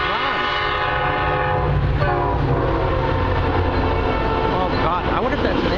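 A Metra commuter train passes close by in Western Springs, sounding its loud horn over the heavy rumble and clatter of rolling cars, with a person talking excitedly nearby.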